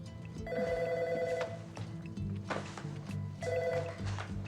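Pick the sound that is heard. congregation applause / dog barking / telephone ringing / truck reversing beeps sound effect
telephone ringing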